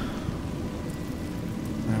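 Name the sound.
rain and thunder in the video game A Juggler's Tale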